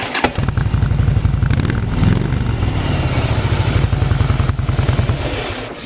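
A Harley-Davidson Fat Boy Special engine with stock exhaust cranks and fires up, then settles into a loud, deep, lumpy idle with a steady throbbing pulse, heard up close with no talk.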